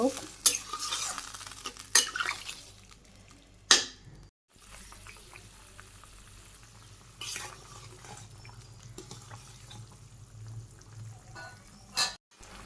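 A spoon stirring potato and cauliflower curry in a pan, with sizzling frying and scraping clinks against the metal, a few sharp knocks standing out over a steady low cooking hiss, no voices.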